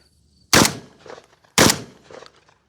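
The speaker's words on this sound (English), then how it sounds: "firing a regular shotgun" A regular shotgun fires two loud, close shots about a second apart, each a sharp blast followed by a short echoing tail.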